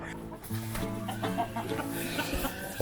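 A Wyandotte chicken clucks close by in short bursts, with a soft, steady background murmur.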